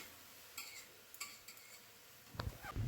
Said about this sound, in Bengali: হালকা হাতে নাড়াচাড়া করে নেবে কিছুক্ষণ, যাতে এই লাউয়ের যে জলটা বা পুরো লাউটা একটু ভাজা ভাজা হয় হালকা